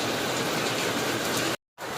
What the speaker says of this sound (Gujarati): હવે વરસાદની મોજ ખરેખર હવે જ જામી